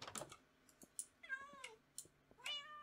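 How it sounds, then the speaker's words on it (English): Cats meow in Minecraft, several short rising-and-falling game meows spaced across the clip, with soft keyboard typing clicks scattered underneath. "Princess, she has a lot of cats."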